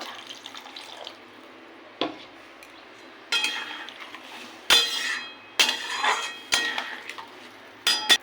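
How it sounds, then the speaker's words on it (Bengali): Water is poured into a cooking pot while a prawn dish is being made, in several uneven splashing bursts with occasional metallic clanks, fairly close and moderately loud, with no one talking. "আর একটু জল দেবো ফুটবে"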